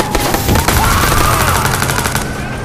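Loud, fast machine-gun fire in the video game Watch Dogs rattles on without a break, close and steady, with a rising whine beneath it and no talk.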